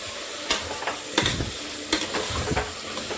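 Mutton sautéing in a pan for mutton kulambu, with a steady frying sizzle broken by several distinct scraping stirs of a spoon against the pan, close and moderately loud, with no talk.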